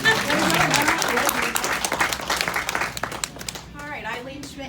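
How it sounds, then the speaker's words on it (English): A room full of coworkers applauds at a workplace award ceremony, dense steady clapping that thins out toward the end while voices talk and call out over it. "let's give Matt a round of applause"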